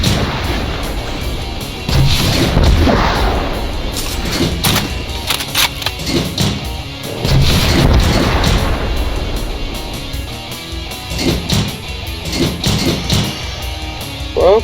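Rocket explosions in the video game Doom: repeated deep, loud booms and thuds land in irregular bursts over a continuous rumble of gameplay noise.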